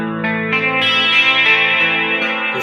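Clean electric guitar with a chorus effect, reverb and delay, a few sustained chords ringing out alone with a shimmering, washy tail.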